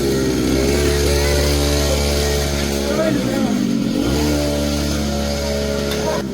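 A 49cc kids' Funky Fat Bike engine buzzes loudly and close while being ridden, its revs rising and dipping once midway, with people talking over it.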